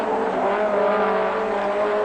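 A 1980 Formula 2 race car at Sandown sliding sideways through the S-bends, its engine holding a loud, steady high-pitched drone close by for about two seconds.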